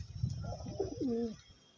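Old-breed pet pigeons in Domjur, Howrah, coo nearby, a low murmuring roll that rises into a clear, drawn-out coo before dying away.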